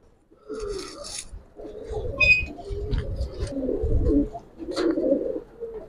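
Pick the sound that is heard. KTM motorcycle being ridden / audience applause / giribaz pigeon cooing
giribaz pigeon cooing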